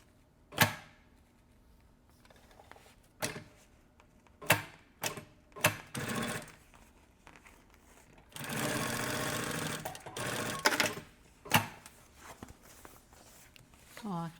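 A sewing machine stitches a straight seam on a health-worker themed kit, with a few brief clicks and short stitch bursts, then one sustained loud run of stitching mid-clip. Someone talks in between.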